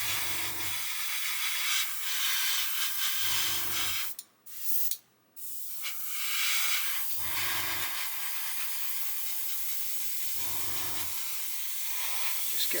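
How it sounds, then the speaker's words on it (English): Compressed air hisses steadily through an airbrush being cleared while painting a model build, long continuous sprays near the mic broken by short pauses and a couple of sharper puffs. "Just clear the airbrush out."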